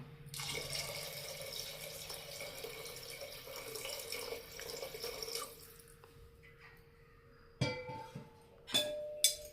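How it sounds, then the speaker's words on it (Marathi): Water pours steadily into a metal pot of peas and potatoes for several seconds, then stops, followed by a few clinks and clanks of cookware. "आता आपण आवश्यकतेनुसार पाणी टाकूया."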